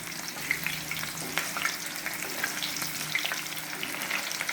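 Potatoes for Kashmiri dum aloo frying in hot oil, a steady close sizzle with scattered crackles and pops, occasionally stirred, with no talking.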